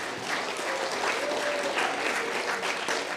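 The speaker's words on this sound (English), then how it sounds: "give all the elders and organizers and everybody a big round of applause" Steady applause from an audience at a community healing gathering, honoring elders and organizers, a dense wash of clapping that holds at an even level throughout.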